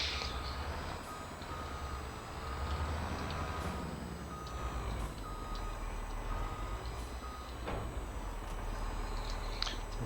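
A Mack Titan truck in the Farming Simulator 22 video game idles with a low engine rumble while reversing beeps repeat at a steady rhythm and occasional air hisses sound, fairly quiet and without talk.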